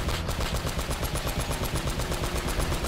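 Rapid automatic gunfire from a video game, Uncharted: Drake's Fortune, a steady rhythmic burst of shots running loud and continuous throughout with no talk over it.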